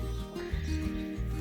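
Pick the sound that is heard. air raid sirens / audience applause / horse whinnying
horse whinnying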